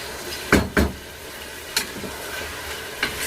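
Chicken frying in a pan with a steady low sizzle, broken by a few sharp clanks of utensils against the pan as it is stirred; no voices.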